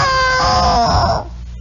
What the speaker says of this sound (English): you'll hear a rooster crow